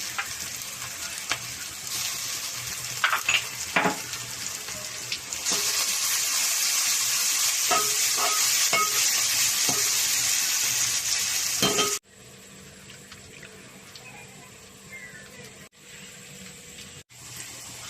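Onions fry in a pan for a Telugu fish pulusu, a steady loud sizzle with clattering stirs, dropping suddenly to a quieter simmer with faint crackle partway through; no talking.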